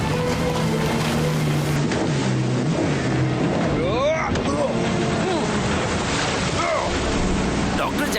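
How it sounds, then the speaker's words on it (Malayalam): A cartoon motorboat engine drones and revs over splashing water with whooshing swerves, loud and continuous in a Motu Patlu chase scene. "വേഗം മോട്ടോർ ബോട്ട് സ്റ്റാർട്ട് ചെയ്യേ പ്ലീസ്"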